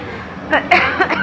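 A short burst of a few quick, close coughs or throat clearings, loud and breathy, in a quiet indoor space.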